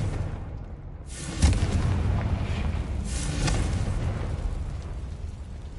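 A Confringo fire spell blast in Hogwarts Legacy, a loud explosive boom erupting near the start and followed by a rumbling, roaring burst with a second swell of blast noise.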